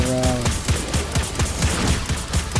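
Hobgoblin rifles in the video game Destiny 2 crack out in a rapid fusillade, a close string of sharp, evenly spaced shots with low thumps beneath, sounding continuously with no talk.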